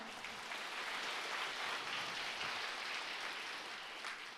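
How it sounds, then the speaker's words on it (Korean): Congregation at a Korean church revival meeting applauding steadily, a dense, sustained wash of many hands clapping at moderate distance, with no break for its full length. "대답 잘했으니까 박수 한번 치겠습니까?"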